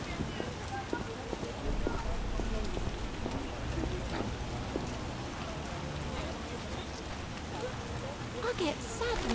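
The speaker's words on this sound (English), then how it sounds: "We're in for a deluge." Rain falls in The Witcher game world, a steady, moderately soft hiss of drops on surfaces running throughout, with faint voices in the background.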